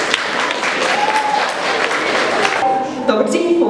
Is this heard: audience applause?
yes